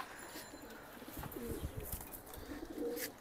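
Pigeons from a pair being shown coo in low, rolling bursts around the middle and end, close by and moderate in volume, with faint chirps over a noisy background.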